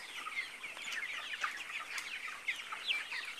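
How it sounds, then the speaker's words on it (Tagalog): Many chickens cluck and chatter together in a busy, overlapping flock, fairly faint and distant. "Ang daming manok!"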